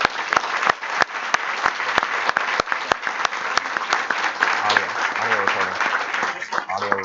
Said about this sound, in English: let's thank them for taking time out of their busy schedule to be here with us today with a very warm welcome and a